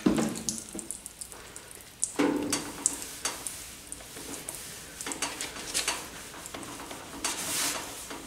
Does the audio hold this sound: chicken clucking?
no